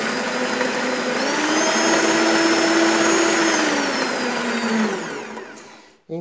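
An Arno planetary stand mixer, a 300-watt model meant for light batters, runs steadily on its own with a loud motor whine, its pitch rising slightly mid-run before winding down and stopping near the end.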